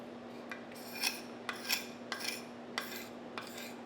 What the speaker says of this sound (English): I'm just lightly going across there and scraping the old finish off